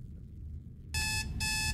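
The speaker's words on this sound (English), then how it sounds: "Set the alarm." An alarm clock suddenly starts ringing in a motel room after a quiet stretch, a loud bright electronic buzz in two bursts separated by a brief gap.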